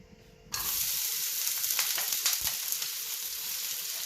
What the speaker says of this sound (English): Yeah, I'm going to be adding the onion.